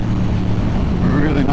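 A Yamaha MT-07 motorcycle engine drones steadily and loudly from the rider's seat, mixed with heavy wind rush as it begins to pull harder near the end.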